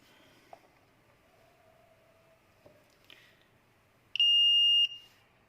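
A multimeter set to buzzer continuity mode gives one steady electronic beep lasting under a second, loud and clear over quiet background rustles, while a shorted Android phone board is being checked.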